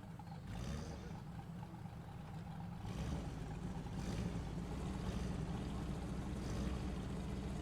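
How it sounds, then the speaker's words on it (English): A low, steady engine rumble of a Scout 800 off-road truck in the video game SnowRunner drones continuously, fairly faint, with slight swells in intensity and no talking. "This engine sound of this JBE Scout 800 is awesome."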